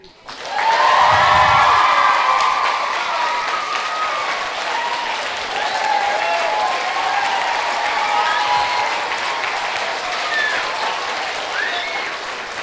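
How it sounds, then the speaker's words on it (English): A hall full of schoolgirls at a girls' high school claps and cheers loudly on cue, a sustained roar of clapping mixed with high shouts and whoops that gradually eases but keeps going. "I want you to clap. So I'm going to do it on a count of 3. So let's see how much noise you can make."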